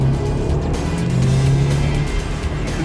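An Audi S1 Sportback with quattro drive accelerates hard. Its engine gives a loud, close, sustained growl with a steady tone that holds for a few seconds.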